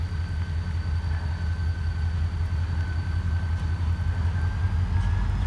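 A Ripley and New Albany Railroad locomotive sits idling nearby, a continuous low diesel rumble with a faint steady whine on top, rain softly in the background and no speech.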